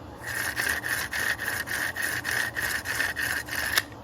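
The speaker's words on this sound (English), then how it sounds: "when I'm trying to pull the launcher, the length is basically the same" A Beyblade launcher ripcord is pulled out again and again in a quick steady rhythm, each pull a short raspy rubbing burst with a slight ratchet whir. About eight close pulls come one after another with no talking.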